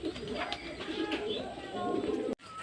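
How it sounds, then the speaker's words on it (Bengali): Pigeons, including female birds, landing one after another to feed, coo in a continuous close murmur, with brief louder flutters and a sudden cut near the end. "পায়রাগুলো একের পর এক লাভছে ওপর থেকে দেখুন"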